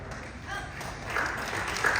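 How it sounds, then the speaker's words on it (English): A church congregation breaks into applause during a sermon, a brief, moderate patter of many hands that swells slightly toward the end. "Why are you clapping?"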